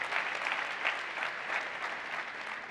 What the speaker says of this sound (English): Everybody give him a warm round of applause.